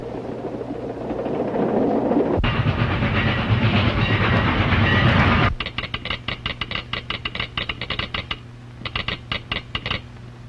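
Three runaway railroad cars roll along the tracks in a 1929 film: a loud rushing roar gives way to a rapid, steady clickety-clack of wheels over rail joints that keeps going with brief gaps.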